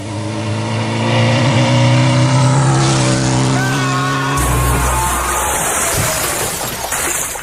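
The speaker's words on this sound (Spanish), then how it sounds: "esta moto me ha fallado" A malfunctioning motorcycle engine revs loudly and close, its droning tone rising and holding before breaking into a rougher, noisier roar.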